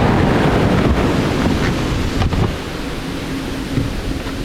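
Ocean surf washing ashore at Ujung Kulon island, a steady broadband rush of breaking waves with wind buffeting the microphone, loud and continuous with a slight easing midway.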